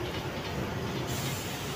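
A train passing under a railway overpass near Sulur in Tamil Nadu, heard from a low-floor TNSTC Ashok Leyland bus as a brief, steady rumbling hiss of wheels on rails.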